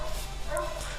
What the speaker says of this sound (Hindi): कुत्ते बहुत भौंक रहे हैं